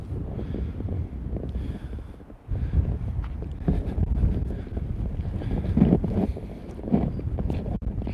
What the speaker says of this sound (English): It is quite windy here today.